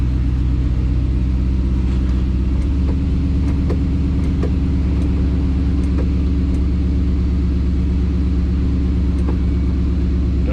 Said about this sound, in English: we're finally going to do this test drive thing